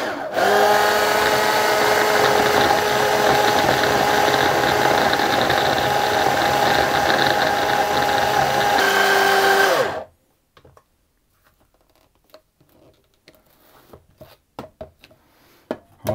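A food processor grinds butter and dry ingredients for fruit tart pastry into fine crumbs, running as a loud, steady, close motor whir for about ten seconds before cutting off to near silence and a few faint clicks.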